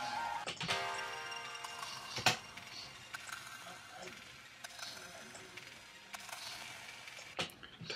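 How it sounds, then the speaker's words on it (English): Sampled clicks and pops play in a steady, dense run of small ticks and crackles for the whole stretch, with a few sharper pops standing out. "it's a bunch of nice clicks and pops that I could probably use"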